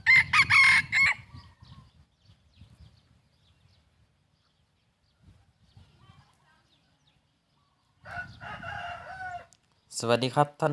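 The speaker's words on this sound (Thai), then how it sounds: "อันนี้ผมมีไก่ตอสวยๆมาให้ท่านผู้ชมได้รับชมกันครับ" A prized decoy rooster on a farm lets out a loud, close crow, then after a quiet stretch crows again twice in short, harsh bursts.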